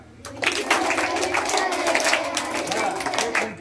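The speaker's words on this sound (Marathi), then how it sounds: "टाळ्या जोरात वाजवायच्या" An audience claps in a steady rhythm along to a Marathi devotional Vitthal chant, loud, dense hand-claps mixed with singing and chanting voices.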